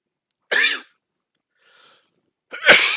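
A sick person lets out two sharp, close coughs about two seconds apart, with a faint breathy sound between them and no talking.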